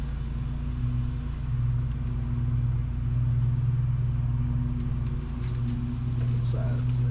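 A car engine idles roughly and low, close by, its steady rumble sagging near the end as if about to stall, with voices faintly in the background.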